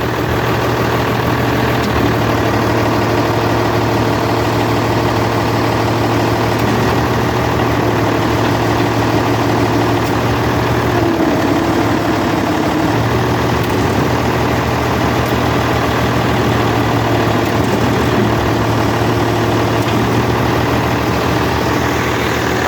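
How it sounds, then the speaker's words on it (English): A Case IH 1586 tractor engine idles steadily throughout while its hydraulic loader is worked, a constant low rumble with droning tones and a slight dip in pitch partway through, loud and close with no voices. "So now I'm gonna see how my loader works."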